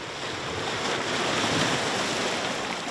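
Ocean waves wash over shore rocks off Nova Scotia at night, a steady close roar of surf and hiss with some wind noise, with no talk.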